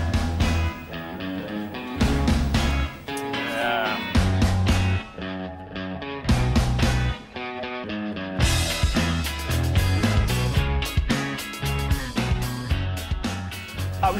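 An indie rock song plays loudly and continuously, upbeat with driving drums, bass and guitars.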